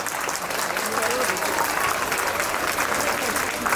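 An audience claps continuously at a school annual function, a broad, steady patter of many hands with a voice speaking over it at times.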